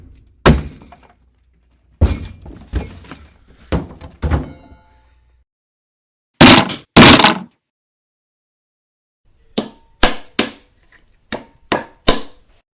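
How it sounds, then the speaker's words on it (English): Walnuts smashed with a hammer give sharp, loud, close cracks and crunchy thunks in irregular bursts, with silent gaps between the strikes. "Breaking walnuts with a hammer."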